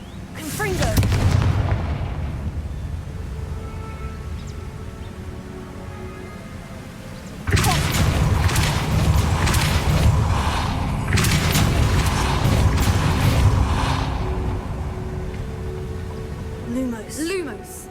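The Confringo spell in Hogwarts Legacy sets off booming explosions, a heavy blast near the start and another burst midway followed by crackling debris and rumbling aftermath, loud and close.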